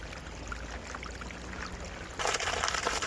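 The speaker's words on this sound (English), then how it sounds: "I'm going to let this water run a while so that cleans on up." Water runs steadily from a supply line into a settling tank as a soft, continuous rushing hiss that grows noticeably louder near the end.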